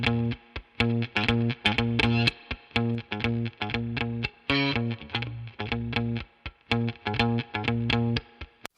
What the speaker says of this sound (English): So now you really hear the bubble of that spring reverb behind.